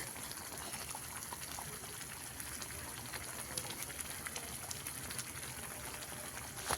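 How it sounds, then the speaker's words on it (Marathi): Masala for egg curry simmering in a pan, a soft, continuous bubbling and hiss with faint crackles, low in level and steady throughout. "बघा किती छान शिजायला लागलेला आहे आपला मसाला"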